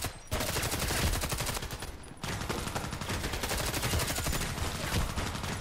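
Sustained machine gun fire in the online shooter Contract Wars, a loud, dense, rapid burst that runs almost continuously with one brief break.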